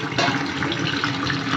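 Water pouring into a pot for cooking noodles, a close, steady splashing gush that runs continuously and fairly loud for a brief moment, with no talking.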